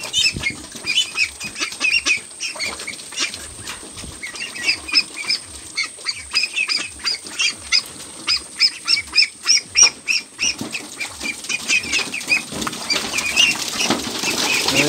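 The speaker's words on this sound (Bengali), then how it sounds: "হাঁসের সুইমিং পুল।" Thirteen Pekin ducklings splash and flap in a small swimming pool, making a rapid run of wet slaps and wing flutters with scattered peeps and squawks, close and busy throughout.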